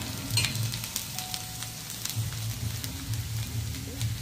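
Onions frying in oil in a pan as they turn red, a soft, low continuous sizzle with faint crackles, close by and fairly quiet, with no talking.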